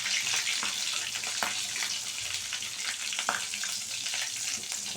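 Vada for homemade vada pav fry in hot oil in a kadhai, giving a steady, dense sizzle and crackle throughout with occasional sharper pops.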